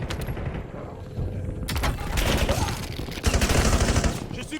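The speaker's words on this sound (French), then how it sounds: "J'ai subi des tirs." Dense gunfire from Warzone gameplay: rapid automatic bursts and single shots crackle over a steady game soundscape, growing louder and more sustained toward the end, with muffled voice chatter underneath.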